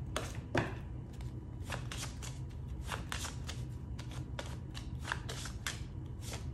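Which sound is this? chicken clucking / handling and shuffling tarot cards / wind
handling and shuffling tarot cards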